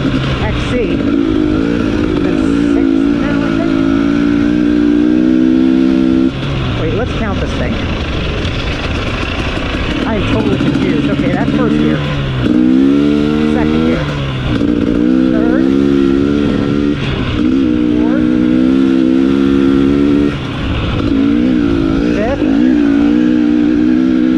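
A 2021 KTM 250 XC TPI two-stroke dirt bike being ridden, its engine buzzing and revving up and down through the gears in repeated surges, close and loud, with a rider talking over it.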